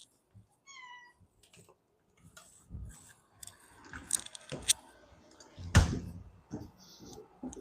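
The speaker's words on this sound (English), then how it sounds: "That was my cat" A cat meows briefly near the start, a short rising call, followed by quiet shuffling, clicks and handling noises, with a sharp thump later on.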